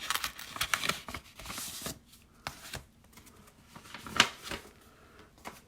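A vintage baseball card is slid out of an opened envelope, giving close, soft paper rustles and scrapes in short bursts with quiet gaps between them.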